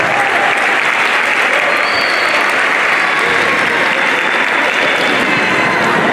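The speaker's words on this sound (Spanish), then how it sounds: "Aplauso para el tercero, por favor." A crowd at a school semester-end ceremony claps steadily and loudly throughout, a dense wash of applause with no pause.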